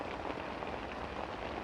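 Steady rain pours down on a wet, windy day at a carp-fishing spot, a dense, even hiss of drops drumming on surfaces, close and continuous with no voices.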